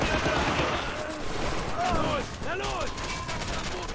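Battle gunfire in the Men of War: Assault Squad 2 video game, set at Stalingrad in 1943, a dense wash of rattling shots and distant explosions with whistling sweeps, continuous and loud.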